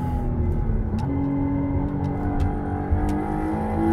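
A McLaren Artura hybrid supercar drives at speed, its engine drone climbing steadily as it accelerates, a smooth continuous rising hum from inside the cabin with faint clicks and no talking.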